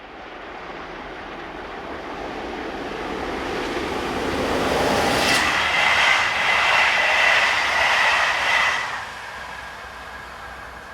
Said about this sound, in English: number 7204 heads south with one of the infrequent stopping services that use this route